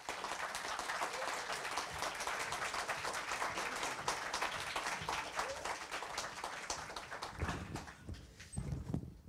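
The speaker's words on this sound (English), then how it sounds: "So please give a warm round of applause" Audience applause welcomes speakers to the stage at an event, with steady dense clapping filling most of the clip before thinning into a few scattered claps near the end.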